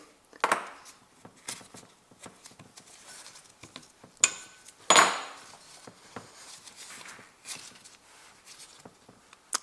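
Metal camshaft bearing caps lifted off a Toyota engine, giving light scattered clinks, taps and scrapes of metal parts, close and moderate, with a couple of sharper knocks and no talking.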